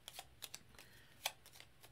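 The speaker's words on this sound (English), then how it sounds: "And okay, so shuffle is done" Deck of game cards riffle-shuffled during a solo Gloomhaven: Jaws of the Lion session, a run of soft, close papery flutters and snaps with one sharper riffle midway, quiet and alone.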